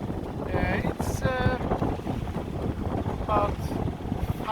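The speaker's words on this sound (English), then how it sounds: "we have the wind totally against us" Strong headwind buffeting the microphone aboard a sailboat on the Göta River, a constant low rumbling roar with gusty swells, while someone talks intermittently over it.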